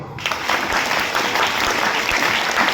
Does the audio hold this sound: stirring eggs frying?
no